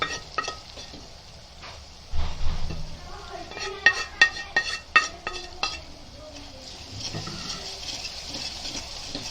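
Spices roast in a clay pot with chicken and ridge gourd, a low sizzle broken by a cluster of sharp spoon scrapes and clinks against the pot in the middle, with a voice talking over it.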